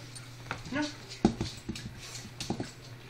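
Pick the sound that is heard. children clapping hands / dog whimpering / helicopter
dog whimpering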